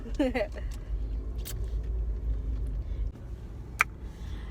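Low, steady engine rumble and road noise from a car being driven, heard from inside with a few brief sharp sounds over it.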